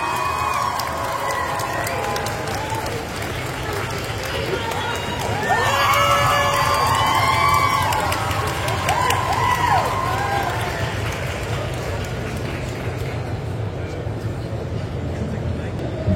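A convention crowd in Paris cheers and applauds as actress Evanna Lynch takes the stage, a loud, continuous roar of clapping with rising shouts in the middle.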